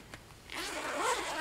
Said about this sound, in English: Zipper's really easy.